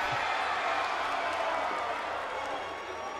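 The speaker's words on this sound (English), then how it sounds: "There's the crowd getting hyped up" A packed crowd at a N.E.W.A. Pro Wrestling show roars in a steady, dense wall of cheering and clapping that holds loud throughout and eases slightly near the end.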